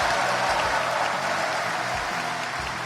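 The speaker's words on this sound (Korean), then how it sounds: "문재인 대통령께 격려의 힘찬 박수를" A studio audience gives steady, hissing applause in support of President Moon Jae-in, with a low voice talking faintly underneath throughout.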